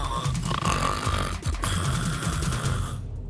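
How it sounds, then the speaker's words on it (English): A man snores loudly and steadily in a cartoon manga scene, with deep rasping, snorting breaths over a continuous low rumble and no talk. "He's still snoring!"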